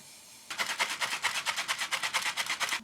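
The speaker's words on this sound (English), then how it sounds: "I'm going to set my face with the Morphe Continuous Setting Mist." A Morphe Continuous Setting Mist bottle sprays onto a face in a rapid, even series of about fifteen close, crisp pumps following a brief quiet pause.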